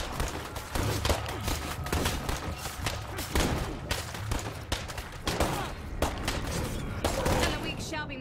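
Rapid gunfire from shooting zombies in State of Decay 2 crackles in dense, overlapping bursts throughout, mixed with thuds and game noise while voices talk over it.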